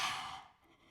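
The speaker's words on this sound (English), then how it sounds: "Give me a deep breath out" A deep, audible breath out during an abdominal curl in a wall Pilates core workout, a soft close exhale that fades within a second.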